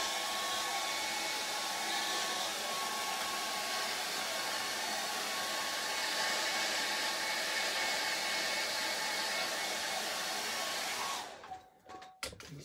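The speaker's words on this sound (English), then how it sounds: "I'm going to use a dryer." Hair dryer blowing on a charcoal and acrylic drawing to dry hairspray fixative, a loud steady close whoosh that runs for about eleven seconds before switching off with a few clicks.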